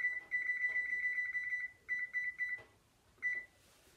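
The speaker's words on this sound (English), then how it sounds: "And we're going to set our timer" An oven timer gives rapid electronic beeps in several bursts while being set, sharp and close, with short pauses between runs and a final brief chirp.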